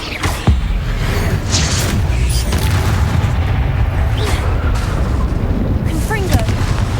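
Bombarda and Confringo spell blasts in Hogwarts Legacy, a run of loud booming explosions in quick succession over rumbling battle noise, with someone speaking.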